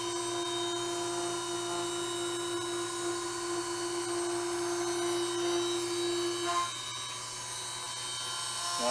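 Gorton P1-2 pantograph engraver cutting in a workshop: a steady high-pitched motor whine with a constant tonal hum that shifts slightly near the end, continuous and close with no talk.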